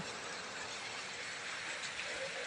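A steady, even hiss of rain falls without pause, a dense soft wash at low level with no voices or other distinct sounds.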